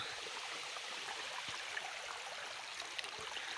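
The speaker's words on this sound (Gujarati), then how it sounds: "આ સાઈડથી પણ પાણી આવે અને અહીંયા બધું ભેગું થઈ અને ડુંગરની ઉપરથી નીચે જાય છે" A quiet, steady rush of flowing water, a stream running down a hill to a village river, heard from a short distance with no voices.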